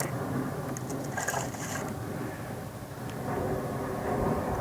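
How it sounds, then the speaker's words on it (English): A chainsaw fitted with an 8-pin sprocket runs steadily after warming up, giving a continuous loud, rough engine drone with no pauses. "the saw should be nicely warmed up"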